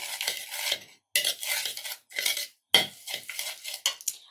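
Powdered sugar being mixed in a bowl for donut dough: short bursts of scraping and stirring separated by brief silences, close and fairly clear.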